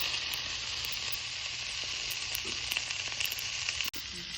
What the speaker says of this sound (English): we're gonna put our fat cap down like that and let it sear and sizzle.